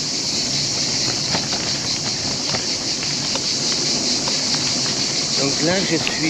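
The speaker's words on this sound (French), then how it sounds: "il y a les cigales là qui font un boucan d'enfer" Cicadas drone loudly and continuously along a canal between Béziers and Carcassonne in July, a dense hissing wall of insect noise with someone talking over it throughout.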